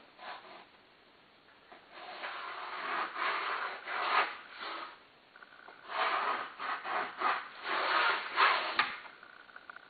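A tool scratches and rubs along a plate while outlines are traced for a handmade Moroccan-style mirror, giving uneven bursts of close, dry scraping strokes with short pauses between them.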